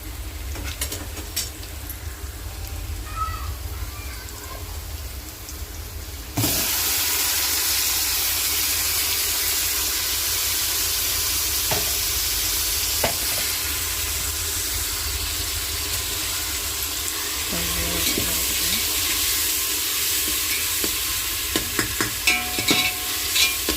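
Tomato fries with sautéed onions in a pan, a steady loud sizzle and hiss that jumps up sharply when the tomato goes in, with occasional scraping stirs.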